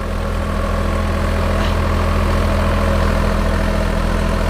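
A Sonalika DI 7 tractor diesel engine running close by with a rotavator fitted with new blades, giving a loud, steady low rumble with an even throb that holds constant throughout, with no talk.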